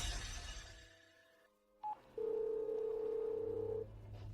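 A telephone number is dialed: a short electronic beep, followed by a sustained steady phone tone lasting nearly two seconds, fairly faint and without talk.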